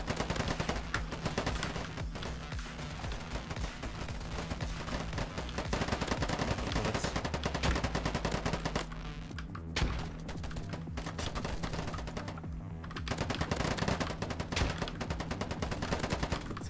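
Rapid automatic gunfire in the online shooter Polygon on the Metro map, continuous loud bursts of shots with short pauses, dense and close throughout.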